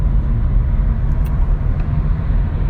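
A car accelerates to merge onto a highway from a rest area, its steady low engine rumble and road noise close and continuous. No one speaks.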